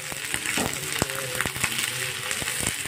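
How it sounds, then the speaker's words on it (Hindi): Peas being stirred into a tomato masala gravy that sizzles and fries steadily in a pan, with occasional spoon scrapes and knocks against the vessel, close and fairly loud. "अभी इसमें हमने डाल दी मटर, मटर को भी इसके साथ थोड़ी देर मिक्स कर देते"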